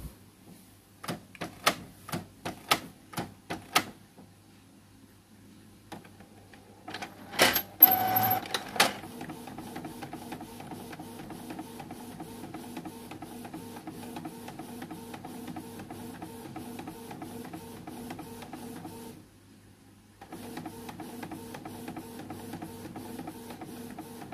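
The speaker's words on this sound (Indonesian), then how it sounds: "karena printer sudah siap, klik print" A Canon MG2570S inkjet printer prints a photo: a run of sharp mechanical clicks and a short burst of motor noise, then a steady whirring feed with rhythmic ticking that pauses briefly near the end before resuming, close and moderately loud.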